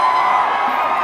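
A festival crowd at Thrissur Pooram in Kerala, a dense roar of many voices cheering and shouting together, steady and fairly loud for the whole moment.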